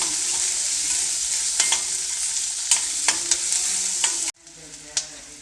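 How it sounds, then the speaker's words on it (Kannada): Onion and green chillies fry in hot oil, giving a steady close sizzle punctuated by regular spatula scrapes and taps; the sizzle drops away abruptly near the end, leaving quieter frying and one more scrape. "ಈರುಳ್ಳಿ ಮತ್ತು ಮೆಣಸಿನ್ಕಾಯಿ ಎಣ್ಣೆಲಿ ಚೆನ್ನಾಗಿ ಒಂದು ಸ್ವಲ್ಪ ಫ್ರೈ ಆಗಬೇಕು"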